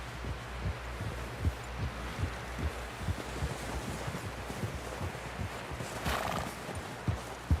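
Video game horse hooves clopping in a steady rhythm close by in Red Dead Redemption, with a brief whinny partway through over a low rumbling background.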